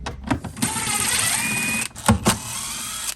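A power tool whirs steadily while backing out 10mm bolts from a Nissan 350Z taillight, a close, continuous high whine lasting over a second, bracketed by short clicks and clunks of handling.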